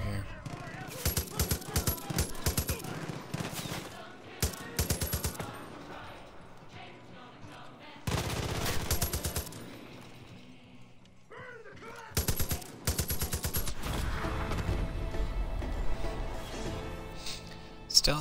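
A gun fires in the Far Cry video game in several loud rapid bursts separated by quieter stretches, with game ambience and someone talking in between.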